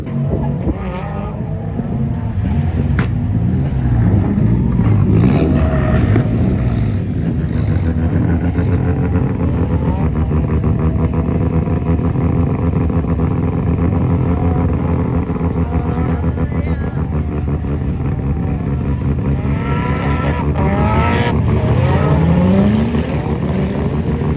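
Nissan S13 engine drifting at a track, loud and continuous with revving surges and rising pitch sweeps, tire noise underneath, close and sustained throughout.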